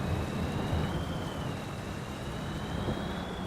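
Steady rain falls in Farming Simulator 22 as a dense, even hiss that sounds close and unbroken for a few seconds, with no voices.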